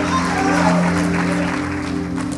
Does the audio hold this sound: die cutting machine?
no